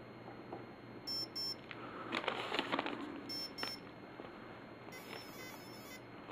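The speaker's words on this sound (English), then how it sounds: "Now it's going to do 2 beeps." An Align ESC in programming mode emits short, high electronic beeps in small groups, a pair early on and a longer tone train near the end, over a quiet background hum.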